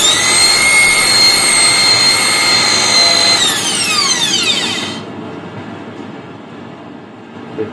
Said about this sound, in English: we're gonna use the drill just to make a little hole on top of the ice.